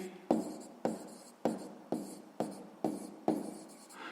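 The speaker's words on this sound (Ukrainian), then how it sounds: "Записуємо відповідь" Pen strokes on paper while writing a maths answer, a steady series of seven or eight short scratchy bursts at an even rhythm, close and fairly quiet with no talking.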